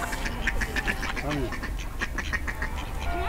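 A goose honks repeatedly by a lake in Pisogne, Italy, on Lake Iseo in winter, the calls close and overlapping other waterfowl with wind and outdoor noise, while a person says a word.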